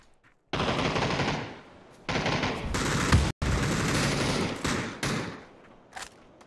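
Sustained automatic gunfire in a battle royale shooter, loud close bursts of rapid shots in long runs separated by brief gaps, with a single thump near the end.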